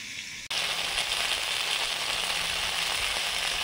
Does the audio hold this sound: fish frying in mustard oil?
yes